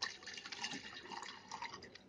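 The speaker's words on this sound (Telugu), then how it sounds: "మీకు ఎంత కావాలో అంత వాటర్ పోసుకోండి." Water pours steadily into a pot to make tea, a close, continuous splashing trickle with faint dripping and no talk.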